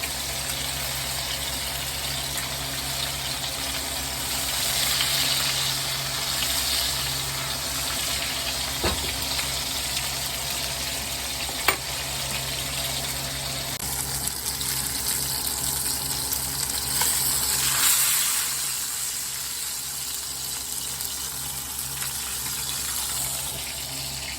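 Food sizzling hard in a cast iron skillet while cooking étouffée, a loud, steady hiss that holds for the whole stretch with a couple of faint clinks, no talk.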